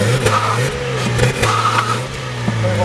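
A car engine with a newly installed intake revs up and drops back in quick bursts during a double-clutch shift, close and loud, with a low droning note.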